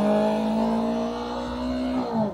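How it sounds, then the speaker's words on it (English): A motorcycle pulls away from a stop and gains speed, its engine giving a steady, fairly loud drone whose pitch climbs slightly and then dips toward the end. No one speaks. "As your bike starts getting power, let's go."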